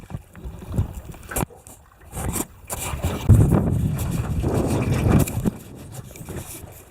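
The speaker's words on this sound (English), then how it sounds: "We're sailing in the wind a little bit now. We've got a decent breeze." Wind buffets the microphone and water rushes and slaps around a small sailing boat converted from a tinny, in uneven close gusts that swell louder midway, with no speech.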